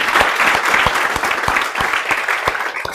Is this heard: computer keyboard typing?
no